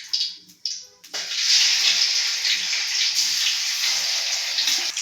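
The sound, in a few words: chicken pieces frying in hot refined oil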